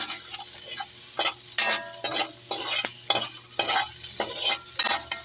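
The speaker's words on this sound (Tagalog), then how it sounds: "Ayan ang ating sibuyas, ilagay na natin kaagad bago pa masunog ang ating bawang." Garlic, onion and ginger sautéing in a little oil: a steady close sizzle overlaid by repeated scraping stirs in an irregular rhythm.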